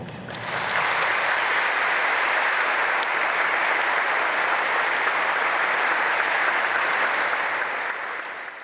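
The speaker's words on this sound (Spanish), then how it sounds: "Todos les damos un fuerte aplauso." A church congregation breaks into loud, sustained applause at a Mass closing a catechist graduation, a broad even roar of many hands that swells in quickly and holds steady throughout.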